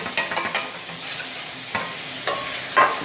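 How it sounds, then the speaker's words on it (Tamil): Fenugreek seeds frying in a home kitchen pan with a soft sizzle while a spoon scrapes and stirs them in a few quick, close strokes, with no talking. "இப்போ நாங்கள் வெந்தியத்தையும் சேர்ப்போம்"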